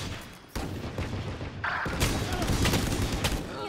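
Gunfire from the Valorant video game, a loud close burst of rapid shots that kicks in abruptly and rattles on continuously with heavy impacts, while a voice talks briefly over it.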